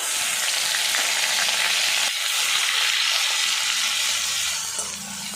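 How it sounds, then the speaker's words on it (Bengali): Ginger-garlic paste and onion paste frying in hot oil give a loud, steady sizzle, with soft scraping as the mixture is stirred, close up and without talk. "বেশ কিছুক্ষণ নাড়াচাড়া করে ভাজা ভাজা করে নেব"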